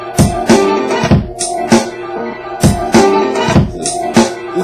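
Beat patterns played back on a Boss SP-505 sampler: punchy kick and snare hits with bright cymbal splashes repeat in a steady, looping groove. The playback is loud and close, with no voices.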